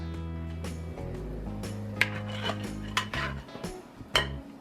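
Spoon scraping Cinnabon swirl pancake batter from a bowl, with repeated close clinks and scrapes of utensils against the bowl over a steady low background hum, no talking.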